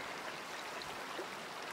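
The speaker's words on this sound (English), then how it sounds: "Nice little waterfall." A small waterfall in the hunting game Way of the Hunter gives a steady, soft rushing and splashing of water, a short continuous wash without other sounds.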